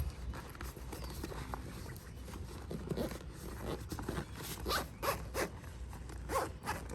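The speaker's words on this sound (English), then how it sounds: "Go ahead and zipper it up." A zipper is drawn closed on a storage bag holding an inflatable dog water ramp, a series of short rasping pulls growing sharper toward the end, up close over faint background noise.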